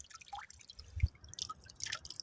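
Cold canal water trickling and dripping, soft wet patters scattered through the clip with one louder splash near the middle, fairly close and quiet, no talking.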